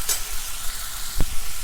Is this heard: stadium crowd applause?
no